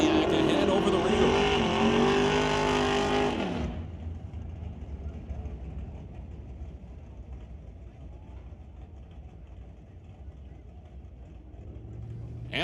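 Loud drag race launch between a Pontiac and a Buick Regal at Mission Raceway Park, engines roaring for about four seconds before dropping to a distant rumble under crowd and track ambience.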